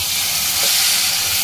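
Chopped chillies sizzle in hot oil in a frying pan while cooking veg manchurian, a steady loud hiss and crackle close up and continuous throughout.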